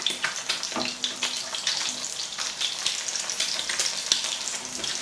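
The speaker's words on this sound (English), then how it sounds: "that egg's just about cooked to perfection" An egg fries in a pan, a dense continuous sizzle with scattered crackles and pops, close to the microphone and without any talking.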